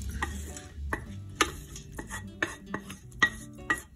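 Meat and mushrooms are stirred in a pot for beef bourguignon, with a quiet run of irregular clinks and scrapes of the utensil against the pot, close up and without talk.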